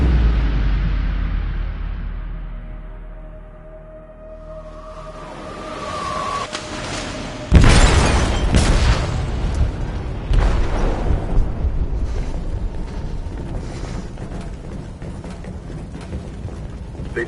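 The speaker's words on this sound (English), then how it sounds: "They detonated an explosive in the hold." A loud explosive detonation in a ship's hold in Detroit: Become Human bursts out suddenly after a low rumbling lull, followed by sustained crashing, roaring debris and rumble that persists to the end.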